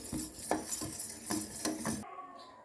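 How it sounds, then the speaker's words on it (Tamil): Tender coconut milk payasam being stirred in a metal pot as the milk comes to a boil, giving a run of scraping, clinking ladle strokes against the pot in a steady rhythm, close and fairly quiet, ending abruptly. "நல்லா பால் பொங்கும்போது நல்லா இந்த மாதிரி அலசி விட்டுக்கணும்."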